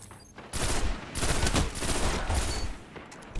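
Shotgun blasts boom in a video game, several heavy shots in quick succession over about three seconds, loud and close, with no voices over them.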